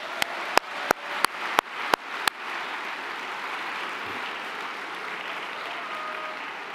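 Audience applause at a graduation ceremony welcoming the graduates' parents, opening with a few sharp, loud isolated claps, then settling into steady, dense clapping from a large crowd that holds through to the end.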